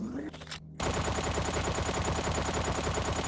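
A light machine gun in the VR game Sweet Surrender fires a sustained, rapid burst, loud and close, starting abruptly after a short pause and running unbroken to the end.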